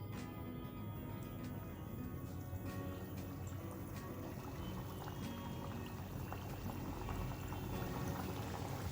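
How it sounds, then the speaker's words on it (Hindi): Wheat flour biscuits frying slowly in moderately warm oil over a very low flame, a steady, dense bubbling and crackling that stays even and fairly quiet for the whole stretch, with no talking. "ये जो बिस्किट्स हैं वो हम फ्राई कर लेते हैं।"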